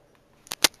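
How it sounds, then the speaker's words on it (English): A phone drops onto the floor, making two quick sharp clatters in under a second, the second louder, heard close with nothing else around. "I just dropped my phone on the floor, which is recording this."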